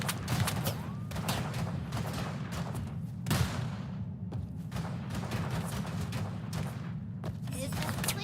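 Steady rattling gunfire from a video game, with bursts and a few heavier thuds over a constant low rumble, continuous throughout.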